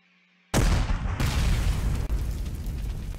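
Heavy artillery counter-battery fire in the tank strategy game Panzer Commander 2: a loud, sudden blast bursts in after brief quiet and then rolls on as a sustained, rumbling roar.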